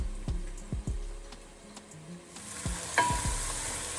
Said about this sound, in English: then we can fry the onion